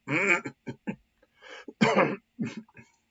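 A series of rough coughs and throat-clearing bursts, close and fairly loud, broken up by short pauses.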